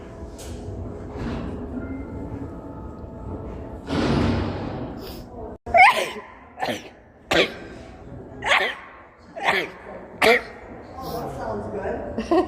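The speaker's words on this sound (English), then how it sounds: "I sneeze more than that." Allergy sneezes and coughs from one person, several sharp close bursts in an irregular run after a stretch of muffled talking and rustling.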